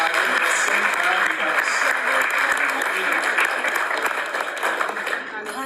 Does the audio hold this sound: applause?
yes